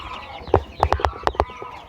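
A few chickens cluck in short, separate bursts close by, about six clucks in quick succession, with quiet background in between.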